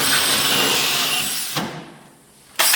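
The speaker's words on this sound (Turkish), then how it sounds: "Delme işlemini gerçekleştiriyor." A power drill bores a hole during electrical work on a prefabricated steel house, a loud steady whine that cuts off, pauses, then briefly starts again.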